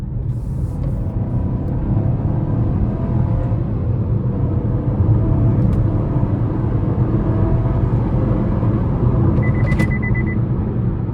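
A 2026 Chevy Trax ACTIV with a 1.2-litre turbo engine accelerating, heard from inside the cabin as a steady low engine drone and road rumble that swells slightly, with no talking.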